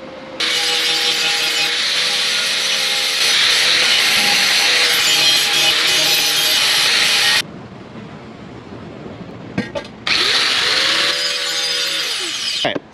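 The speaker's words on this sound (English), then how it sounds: "I'm gonna go grind this smooth now." An angle grinder smooths down a freshly welded crack in metal, a loud continuous broadband grind running for about seven seconds, pausing briefly, then resuming for a final few seconds.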